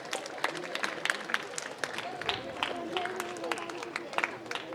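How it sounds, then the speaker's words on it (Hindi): Children at a school alumni meet applauding the principal and vice principal, sustained scattered clapping from a crowd with some chatter mixed underneath. "जोरदार तालियों से प्राचार्य महोदय एवं वाइस प्रिंसिपल सर का स्वागत करें"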